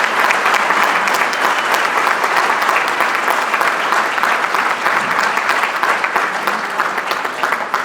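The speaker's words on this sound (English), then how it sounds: "let's just give them another round of applause." A full room of people applauding at an awards ceremony, steady and loud, sustained dense clapping with no pauses.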